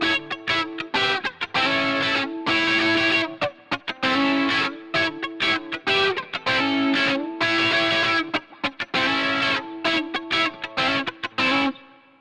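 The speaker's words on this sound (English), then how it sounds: "this one has got a little bit of phaser on it, and it's sort of semi-dirty" Semi-dirty electric guitar through a Line 6 Helix with a touch of phaser plays a flowing run of chords and single notes, loud and continuous with brief gaps, no voices.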